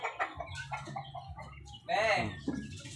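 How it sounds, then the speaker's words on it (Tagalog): Hens cluck among a flock of chickens in Quezon City, with a loud burst of squawking near the end following scattered, moderate-level calls, while someone talks nearby. "Ito po yung mga inahin."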